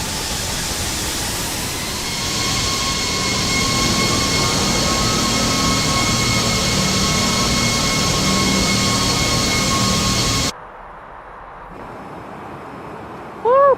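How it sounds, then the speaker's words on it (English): Iberia Airbus A340 jet engines roar in a flight simulator game, a steady, loud broadband drone that cuts off abruptly near the end, leaving quiet with faint tonal sounds. "Oh yeah, listen to the engines too."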